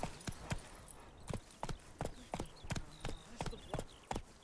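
Hooves of the horse Roach clip-clop at a steady trot in The Witcher 3, around a dozen crisp, evenly spaced footfalls close by, with no speech over them.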